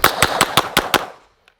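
Pistol fired with an OSIGHT C red dot sight, six loud, sharp shots in quick even succession, close to the listener, followed by a brief fading echo and then near silence.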